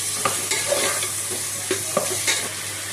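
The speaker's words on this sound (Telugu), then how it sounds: "వేసుకున్న తర్వాత బాగా కలుపుకోవాలి." Tomato pieces stirred and frying in a pan while making tomato rice, a steady sizzle broken by scraping spoon strokes every half second or so, close up with no talking.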